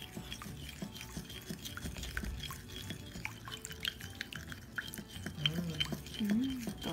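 Vegan donut batter with chunky margarine is stirred in a bowl, giving soft wet sloshing and scraping close by, with a few brief voice sounds near the end.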